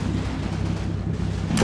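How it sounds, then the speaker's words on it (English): Tank main gun firing at infantry in the Combat Mission wargame set in Normandy, heard as a steady dense low rumble of booming fire lasting throughout, with a sharper burst right at the end. "the tank decides that wasn't cool and starts shooting at them"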